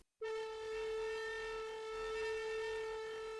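A sustained Serum 2 metalcore synth tone, a steady bright buzzing note with dense harmonics, held alone and loud for the full length, slowly auto-panned from left to right by PanMan.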